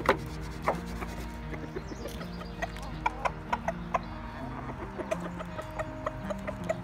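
Chickens in a July garden cluck in soft, scattered calls over a low, steady background, with short tapping sounds repeating throughout.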